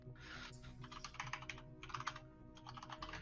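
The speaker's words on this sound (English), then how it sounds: "Let me just type them in chat." Close, quiet typing on a computer keyboard comes in three quick bursts of rapid key taps with brief pauses between them, alone with no talk.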